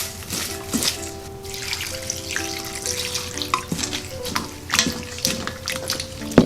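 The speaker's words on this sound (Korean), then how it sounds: "손질한 황태채에 물을 부어서 살짝 적셔주세요." Water is poured over trimmed dried pollock strips in a bowl, giving an uneven splashing and trickling with clinks of handling, close and moderately loud, with no talk.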